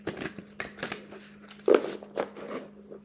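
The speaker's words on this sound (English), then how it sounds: "let's go ahead and shuffle the cards" A deck of tarot-style reading cards being shuffled by hand, with soft papery riffles and taps in irregular bursts, close and fairly quiet, one sharper snap near the middle.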